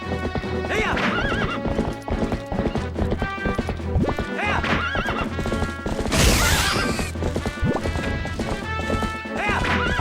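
Galloping hooves clatter steadily beneath layered music in The Legend of Zelda: Twilight Princess, with a horse whinnying partway through and a brief crash-like burst near the middle.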